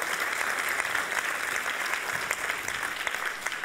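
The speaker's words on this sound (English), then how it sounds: "A big round of applause, please." An audience applauds for a band at a university event, a dense steady clapping that carries at full level throughout.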